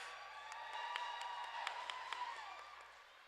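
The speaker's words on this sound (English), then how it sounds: "can we get a huge cheer for our amazing officials in stripes and black?" Crowd cheering and applause for the officials at a roller derby scrimmage, a steady wash of distant claps and whoops with a few sharper clap peaks throughout.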